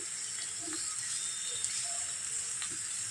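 Curry leaves dropped into a hot pan of oil give a steady, soft sizzle with faint crackles and pops, close up and without talk.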